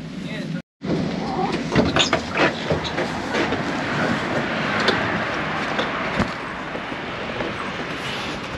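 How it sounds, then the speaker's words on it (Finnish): Rolling hum and rattle of a low-floor tram running through Gdansk, steady and close throughout, with faint clicks over the rails and voices murmuring in the car. "Nyt ollaan ilmeisesti jonkinlaisessa raitiovaunussa ja oli tällainen matalalattia raitiovaunu."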